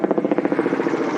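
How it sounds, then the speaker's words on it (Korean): A fire helicopter hovers low over the Geum River, scooping water during a blaze at a Hankook Tire plant, its rotor producing a steady, loud chopping pulse with no voices. "지금 소방 헬리콥터가 금강에서 물을 뜨고 있어요"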